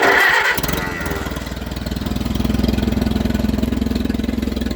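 An Allis Chalmers WD tractor engine cranks briefly and catches, then settles into a loud, steady, rhythmic chugging idle close by, with no talking.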